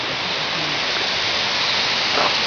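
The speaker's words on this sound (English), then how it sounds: "This is a typical monsoon waterfall." A monsoon waterfall beside the trekking trail up to Kothaligad Fort makes a steady hiss of falling, splashing water at moderate distance, even and continuous with no talk.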